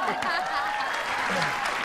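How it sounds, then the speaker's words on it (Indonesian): A studio audience on an Indonesian late-night talk show claps on cue. The brief, even burst of applause sits under an ongoing talking voice. "tepuk tangan dulu dong"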